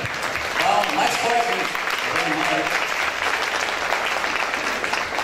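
Audience at a copywriting sales class applauding, a steady wash of clapping that holds through the whole stretch, with a voice talking over it near the start.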